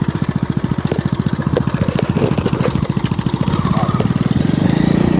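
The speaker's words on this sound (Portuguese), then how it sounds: "Eu tô de moto, né?" A motorcycle engine runs steadily up close with a fast, even pulsing throb, holding a constant idle-like rhythm throughout with no talk.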